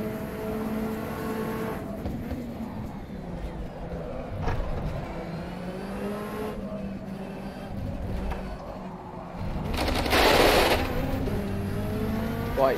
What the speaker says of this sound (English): Right, you hear the gravel a lot.